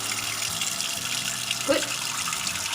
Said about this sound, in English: Soak your pan first in cold water.